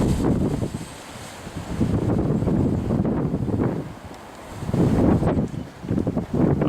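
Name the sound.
strong gusty wind blowing outdoors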